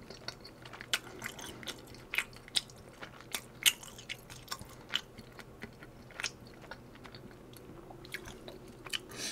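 Tteokbokki and oden soup being eaten up close, with soft wet chewing and scattered sharp bites or clicks at an irregular pace, quiet and alone.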